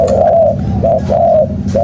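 A spotted dove from Malaysia coos up close, three soft rounded calls in a steady rhythm, loud and clear over a faint background murmur.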